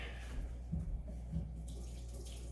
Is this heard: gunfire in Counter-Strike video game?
no